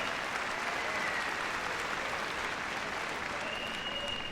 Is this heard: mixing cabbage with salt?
no